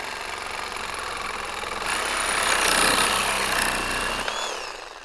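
A power saw with a short blade cuts through EMT metal conduit, a steady harsh grinding whine that grows louder midway and then trails off as the cut finishes.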